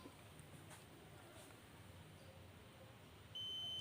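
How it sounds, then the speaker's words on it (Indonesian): A bridge navigational watch alarm buzzer on a homemade Outseal Mega V1 ship-alarm build switches on near the end, a loud, steady high electronic tone cutting in suddenly after quiet background hiss. "Buzzer menyala"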